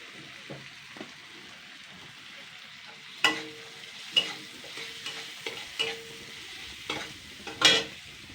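Boiled potatoes with spices frying in a pan, a low sizzle broken by repeated scraping stirs of a spatula, with several louder strokes in the second half.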